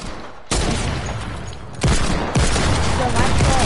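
Loud gunfire in a video game comes in dense, overlapping bursts with sharp impacts that jump in intensity, while players talk excitedly over it.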